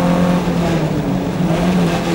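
Race cars in a Formula Sheane event at a circuit grab fourth gear on the way up to the S's, giving a loud, continuous, close engine roar that sustains steadily through the short stretch with no talk.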